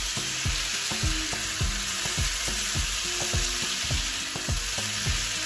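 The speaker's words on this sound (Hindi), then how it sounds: "टमाटर के साथ अब हम आलू को फ्राई कर रहे हैं" Potatoes fry with tomatoes and spices in a pan for a breakfast aloo dish, giving a constant loud sizzle with regular scraping stir strokes about twice a second, close up and without voices.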